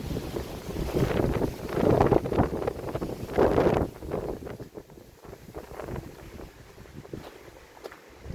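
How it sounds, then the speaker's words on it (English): A strong gust of wind sweeps across a mountaintop, loud and blustery as it buffets the microphone for several seconds before easing into a lighter, steadier breeze. "That was a pretty strong breeze there."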